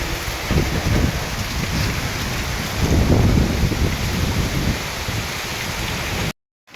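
Heavy unseasonal May rain pours down with strong gusting wind, a dense, loud, steady roar buffeting the microphone, surging midway before cutting off abruptly near the end.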